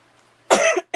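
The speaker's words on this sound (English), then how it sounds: "Why I just start coughing like that?" A single person coughs sharply and loudly at close range, a short harsh burst after near silence.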